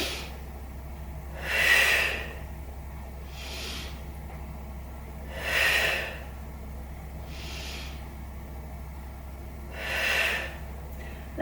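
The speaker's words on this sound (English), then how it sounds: "Let's take 3 breaths into the rib cage." Slow, deliberate breaths drawn into the rib cage during a seated Pilates spinal twist, three soft, airy swells spaced about four seconds apart over a low steady hum, close and fairly quiet, with no talking.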